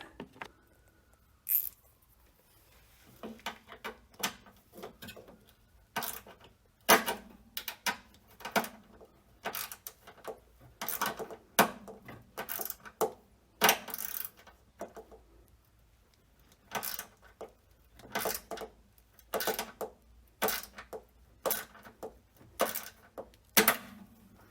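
Tools are rummaged through in a ratchet set while working on a Jeep Cherokee, giving a long, irregular series of sharp metallic clicks and clinks, close and fairly quiet, with short pauses between.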